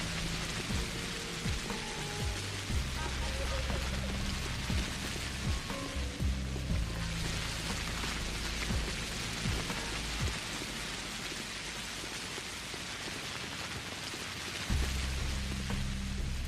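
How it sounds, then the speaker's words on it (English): Rain in the video game Pathologic, a steady broadband hiss of falling drops that runs continuously under low droning game music, with no one talking. "The rain, I don't remember the rain sounding like this."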